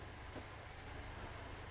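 Dense, steady rain pours in a dark video game scene, a continuous even wash of drops hitting surfaces with no breaks and no voices.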